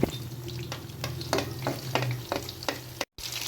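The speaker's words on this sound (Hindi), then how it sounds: "अब हम एक और फिश इसमें ऐड कर देंगे। ये देखिए माशाल्लाह, वो गोल्डन होने तक फ्राई करेंगे।" Fish fillets frying in oil in a kadai, a steady loud sizzle with repeated clatters of a spoon or spatula turning the pieces, ending in a brief cut of silence before the hiss resumes.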